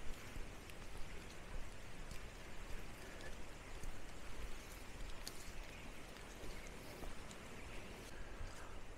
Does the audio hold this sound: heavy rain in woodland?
yes